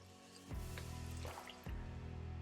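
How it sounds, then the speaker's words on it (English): Water drips and splashes into a large tray beneath a watered house plant, two distinct splashy drops over a steady trickling wash, close and fairly quiet. "it's in a big tray, so I'm not worried about watering this and overflowing the tray here"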